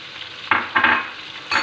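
Garam masala, ground coriander and salt stirred into chicken white karahi in a hot pan, three short scraping stirs over a soft sizzle, close and clear, no voices.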